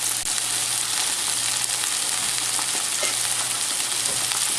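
Hamburger patties for cheeseburgers fry in a pan with a steady, dense sizzle and crackle that holds loud and close throughout, with no talking.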